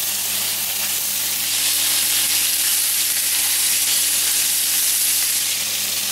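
Pork outer fillet steak sizzles loudly and steadily in a hot frying pan, a dense continuous hiss that holds even throughout with no speech.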